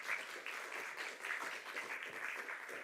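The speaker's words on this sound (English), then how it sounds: "I would like to ask you to give a warm applause to Professor Simon Bush." Audience applause for a university lecturer on sustainable fishing, a steady, continuous clapping from a crowd filling the room, moderately loud and even throughout, with no talk over it.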